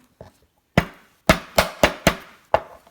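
Sharp, close knocks as a crab shell is tapped lightly during cleaning: a faint tap, then about six crisp raps at an uneven pace, each ringing briefly before fading.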